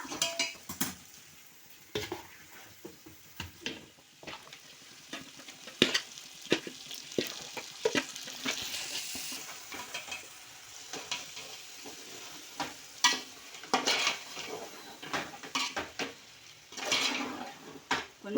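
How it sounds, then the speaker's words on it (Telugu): Masala paste for biryani frying in oil, stirred with a metal utensil: a steady close sizzle broken by repeated clinks and scrapes against the pan in an uneven rhythm, with no voices. "కొంచెం ఇది కూడా మసాలా అంతా కలిపి ఆయిల్లో ఫ్రై అయితే బాగుంటుంది"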